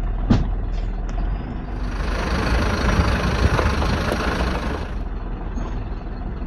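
A vehicle engine rumbles steadily and loudly as it drives into a pothole on a rough village road in Kulo, with a few knocks and jolts at the start and a broad rushing swell in the middle.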